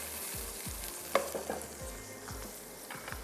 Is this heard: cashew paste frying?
yes